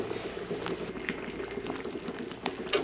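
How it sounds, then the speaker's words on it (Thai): Water boiling steadily in a pot of beef being simmered for shredded beef, a continuous close bubbling and popping with occasional sharper bursts, no talking. "ถ้า ของคุณเนี่ยหรือที่คุณต้มเนี่ยน้ำเดือดจนจะล้นหม้อ ให้คุณเบาไฟลงนิดนึง แต่ตลอดเวลาที่ต้มน้ำต้องเดือดนะครับ"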